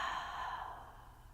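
A long, steady breath pushed out through an open mouth during a seated chair yoga session, a soft airy sigh that fades gradually over about a second, close and alone with no talking.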